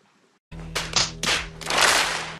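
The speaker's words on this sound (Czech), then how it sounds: "já ti snad zatleskám" Scattered hand claps in a few loose bursts, close and fairly crisp, starting abruptly after a brief quiet moment and running on for about two seconds with no talking.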